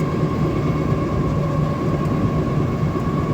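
A moving passenger train heard from its roof on the route toward Dhaka via the Padma Bridge gives a constant, loud rumbling roar with a steady humming tone and no pauses.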